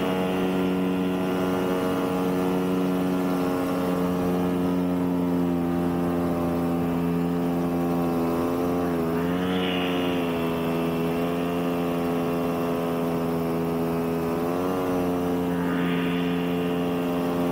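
A paramotor engine flying under an Ozone Roadster 4 wing drones steadily with a strong, even pitch, then swells twice as the throttle opens. It is loud and continuous throughout, with no talking.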